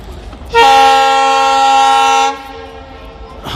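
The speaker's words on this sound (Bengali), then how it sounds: "এইমাত্র আমাদের ট্রেনটি আসলো। এই যে দেখেন, আস্তে আস্তে সে স্টেশনে এন্ট্রি নিচ্ছে।" A train pulls into a station in Bangladesh, sounding one loud, steady horn blast for nearly two seconds before it cuts off and a low rumble remains.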